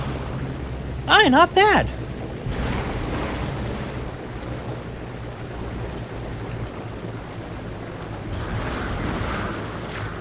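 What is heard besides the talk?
Spruce Goose nose-planting into water, video game MSFS 2020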